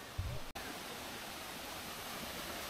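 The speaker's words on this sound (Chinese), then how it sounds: "瀑布到啦" Sungai Pandan waterfall in Malaysia gives a steady, broad roar of falling water that fills the whole clip, loud and unbroken apart from one brief dropout near the start.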